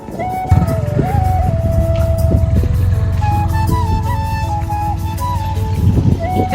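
A motorcycle engine runs loud and close on a village road, a steady low rumble that swells slightly as the bike is turned around, with high tonal sounds drifting above it.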